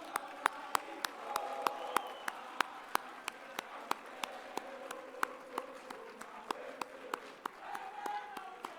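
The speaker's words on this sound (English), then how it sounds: "we should give them a round of applause." An audience applauds its speakers at a public talk, sustained moderate clapping with distinct near claps over a soft crowd murmur, fairly quiet in the room.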